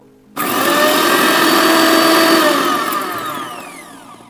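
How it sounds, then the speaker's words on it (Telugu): A mixer grinder whirs loud and close as it grinds green chillies, cumin and salt, starting abruptly with a roaring spin that holds steady, then slowly winds down toward the end. "పచ్చిమిర్చి, జీలకర్ర, కొంచెం ఉప్పు వేసుకున్నాం కదా, దాన్ని ఫస్ట్ మిక్సీ పట్టేసుకుందాము"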